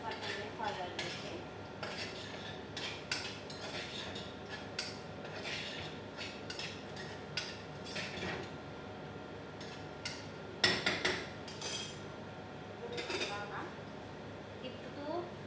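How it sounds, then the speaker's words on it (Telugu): A pan of vegetable chicken fried rice is stirred and fried in oil, with steady scraping and clinking of a utensil against the pan throughout. A few louder knocks stand out near the end, and a voice talks over the cooking. "తిప్పుతూ కదుపుతూ ఉండాలి. బాగా ఫ్రై చేసుకోవాలి."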